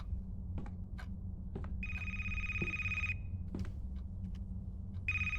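An incoming phone call in the video game A Place, Forbidden: two bursts of an electronic trilling ringtone, steady and clear, with faint clicks and a low hum in the background.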